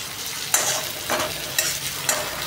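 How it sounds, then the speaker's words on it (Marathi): Noodles and vegetables frying in a hot pan give a constant close sizzle, with three stirring strokes standing out as louder swishing bursts at regular intervals. "आता आपण नूडल्स टाकूया. चला ते छान फ्राय होऊ दे राजा."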